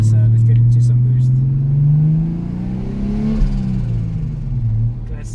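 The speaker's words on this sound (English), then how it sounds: "Classic turbo flutter." Turbo flutter from a 2JZ straight-six in a Toyota Hilux: a loud, close engine drone that falls in pitch after a lift-off, with a choppy fluttering rush as the revs drop.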